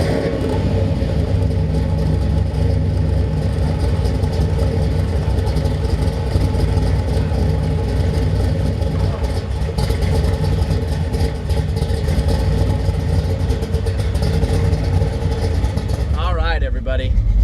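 A 430 HP 400 small-block hot rod engine rumbles loudly and steadily as the car drives, heard from close by, with people talking over the continuous roar.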